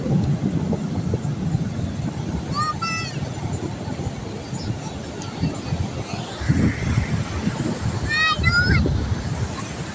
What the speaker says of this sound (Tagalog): Lalaki ng alon mga guys